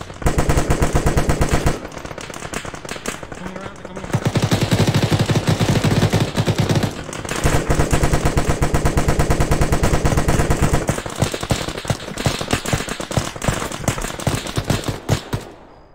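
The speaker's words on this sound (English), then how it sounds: "Oh, heavy machine gun, car." Heavy machine gun fire in the military shooter Arma 3: dense, loud, continuous bursts of rapid gunshots with brief pauses, close and booming, with no talking over it.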